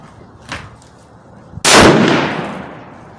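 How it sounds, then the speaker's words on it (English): A Savage Axis bolt-action rifle chambered in .308 fires a single loud shot at a range, a sharp blast with a long decaying echo, preceded by a faint click. "Okay, last shot."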